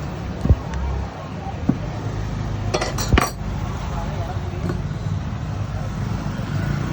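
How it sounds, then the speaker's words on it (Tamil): A bread omelette cut with a metal spatula on a street food griddle, with several clinks and scrapes against the hot plate over steady roadside noise, while people talk. "அண்ணன் வந்து பிரெட் ஆம்லேட் வந்து கட் பண்ணுறாரு"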